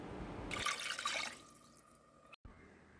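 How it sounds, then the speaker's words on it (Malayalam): Two cups of water poured into a pan of salmon fish curry: a short, bright splashing gush that fades into a quieter trickle and then stops. "പച്ചമണം മാറുമ്പോൾ 2 കപ്പ് വെള്ളം ചേർക്കാം"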